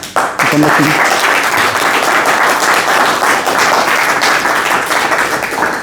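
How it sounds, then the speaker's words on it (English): A Toastmasters club audience gives a loud, close burst of applause that starts abruptly and keeps going as dense, sustained clapping for several seconds before easing slightly toward the end. "can we give 2 rounds of applause?"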